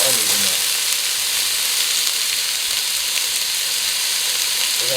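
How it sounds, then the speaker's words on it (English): Onions fry in oil in a pan, a loud steady crackling sizzle with a bright hiss that holds evenly throughout, close up and with no talk over it. "Drop some onions in there."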